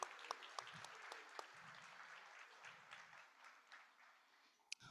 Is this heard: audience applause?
yes